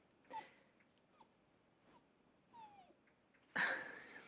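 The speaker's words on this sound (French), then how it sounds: "C'est ma chienne que tu entends." A female dog whimpers and yips indoors in short, high, wavering cries spread across a few seconds, ending with a louder burst of noise nearby.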